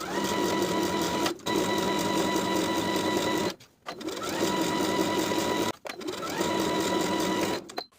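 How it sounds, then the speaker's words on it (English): A sewing machine runs in long, steady bursts while edge stitching close to the inner fold of a ruffle tier summer dress, its rapid mechanical hum stopping briefly three times between runs, close and loud. "Now I'll edge stitch close to the upper inner fold all the way around"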